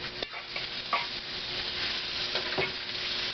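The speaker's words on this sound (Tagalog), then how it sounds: "Luto mo muna yung hotdog." Hotdogs frying in a pan, a steady close sizzle of hot oil with occasional scraping stirs of a utensil against the pan.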